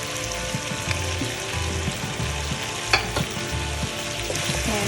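Chopped cauliflower and greens go into meat frying for gobhi gosht. A loud, steady sizzle carries occasional stirring knocks close by, with no talk.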